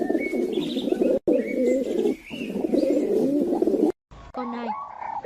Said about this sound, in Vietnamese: Con chim bồ câu.